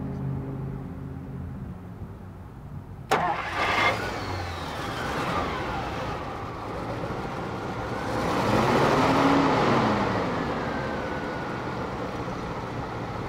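A stock 1951 Packard Patrician 400 cranks and catches with a sharp start, then settles into a smooth, steady idle, swelling briefly louder as it revs a little before easing back to an even running drone.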